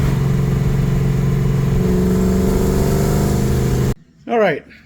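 A 1965 car's engine on a test drive, a loud, steady droning rev held close for about four seconds before it cuts off abruptly, followed by a short spoken voice.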